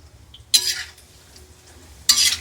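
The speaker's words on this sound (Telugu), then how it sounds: "పప్పులని జీడిపప్పులను వేపుకుందాం" Cashews and lentils being fried in a pan, heard as two short bursts of hissing, scraping stir about a second and a half apart over a quiet low hum.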